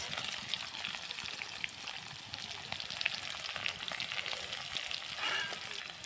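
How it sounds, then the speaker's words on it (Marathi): Onion frying in oil in a pan for moong bhaji, a steady close sizzle and crackle running throughout at moderate level with no talking. "कांदा वगैरे टाकून घेते त्याच्यामध्येच"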